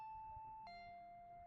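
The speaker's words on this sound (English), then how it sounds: "Ding dong." A two-tone ding-dong doorbell chime in a visual novel video game: a steady higher tone drops to a lower held tone partway through, soft and clean with no voices.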